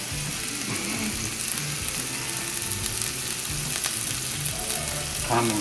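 A steak sizzles loudly in a hot, well-seasoned cast iron pan, giving a continuous close hiss and crackle throughout, with faint clinks near the end.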